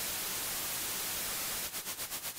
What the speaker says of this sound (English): there's many ways to generate white noise, including using a synth